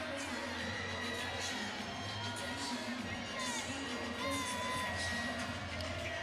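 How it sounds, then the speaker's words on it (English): Home crowd cheering at a college women's volleyball match between South Carolina and Georgia in an indoor coliseum, a steady, dense roar of many voices with whoops and shouts, loud and continuous throughout. "Good crowd has assembled here at Stegman Coliseum, cheering on the home squad tonight."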